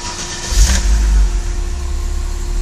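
A Chevrolet Omega CD engine catches and revs up, surging loudly for a moment before settling back into a steady idle hum, close and with no talking.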